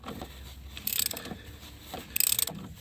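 Ratcheting wrench work removing the starter bolts from a 2WD Dodge Durango 3.6L during a transmission replacement, with two quick bursts of clicking pawl sounds among softer metallic handling noises, close and fairly quiet.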